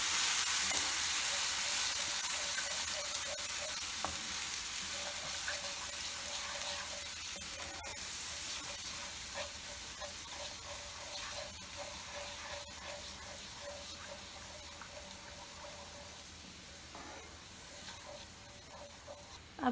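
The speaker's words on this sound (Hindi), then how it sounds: "ये अब जो ये दही और मसाले हैं इन सबको इस तेल में डाल देते हैं। अब इसको हमें लगातार चलाना है।" Yogurt and spice paste stirred in hot oil for an okra curry, giving a steady close sizzle and frying crackle with faint scraping of the spoon throughout, no voices.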